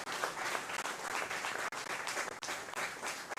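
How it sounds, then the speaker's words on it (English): Sustained applause from a conference audience at a disability rights event, dense and even, continuing steadily throughout without voices. "put a round of applause to all the interpreters who are present here today"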